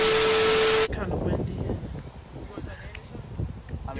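Gusty wind buffets the microphone with a low, rumbling roar, preceded by a brief loud burst of harsh noise.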